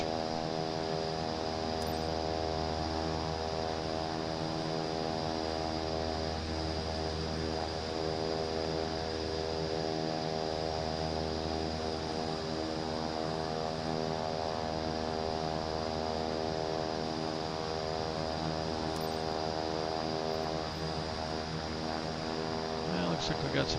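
Cessna 408 SkyCourier turboprops in Microsoft Flight Simulator 2024 running on the runway before a cargo takeoff, a steady low humming drone with a faint buzzy edge that stays even and unbroken, with no talking over it.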